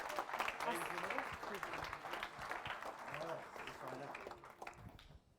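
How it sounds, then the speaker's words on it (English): An audience at a London evening event bursts into applause for two guests coming up on stage, steady, full clapping across the room that thins toward the end, with talk over it. "Will you give a huge round of applause for James Haskell and Rachel Burford?"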